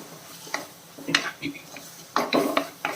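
Metal spoon scraping and clinking in a pan as tomato is sautéed on low flame for a fishless fish curry, with irregular close taps and stirring scrapes and quiet stretches between.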